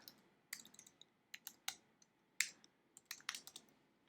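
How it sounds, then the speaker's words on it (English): Quiet, close keystrokes on a computer keyboard while typing into WordPress, irregular clicks and taps in short clusters with silence between, no talking. "as I'm typing on the sidebar here"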